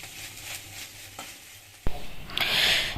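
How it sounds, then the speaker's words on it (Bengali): Oil hisses and sizzles softly, then a sharp clatter is followed by a louder, bright frying sizzle as prawns hit the hot pan. "চিংড়িটা ধুয়ে আমি ভাজতে শুরু করে দিয়েছি"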